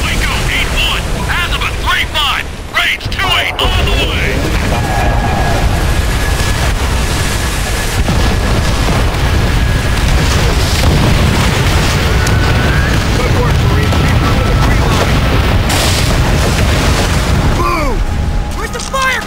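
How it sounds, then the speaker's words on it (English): Rocket strikes pound a beach on Peleliu Island in Call of Duty: World at War, loud continuous booms and blasts mixed with gunfire while soldiers shout over the din. "That rocket strike should have softened him up!"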